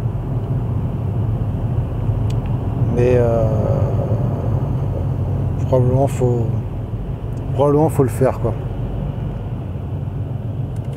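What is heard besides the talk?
inside a car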